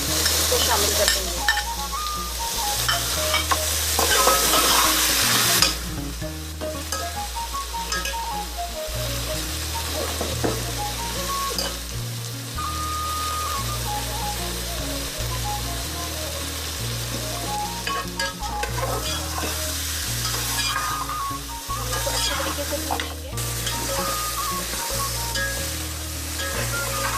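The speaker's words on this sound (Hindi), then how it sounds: "गोश्त हमारा फ्राई हो गया लहसुन अदरक के साथ।" Mutton frying with garlic and ginger in a pot, a loud steady sizzle with recurring stirring scrapes throughout, no talk.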